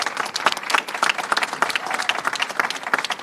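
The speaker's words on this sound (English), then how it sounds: "Let's give them a round of applause for all the work." A crowd at a governor's bill signing claps in a lively, uneven burst of applause, individual claps standing out in a fast patter at moderate loudness.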